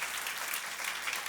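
Church congregation applauding during a service, a short steady wash of many hands clapping in a hall, even and fairly distant with no voices over it.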